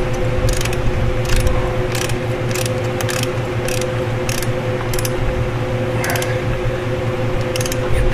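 Ratchet tightening clutch bolts on a Chevrolet, a steady run of sharp clicking bursts repeating at a brisk, fairly regular pace over a constant background hum, close and moderately loud.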